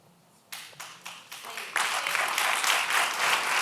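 Audience at an open forum on campus carry breaks into scattered claps that build into sustained, fairly loud applause filling the room.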